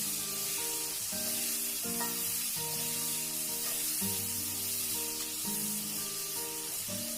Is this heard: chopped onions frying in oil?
yes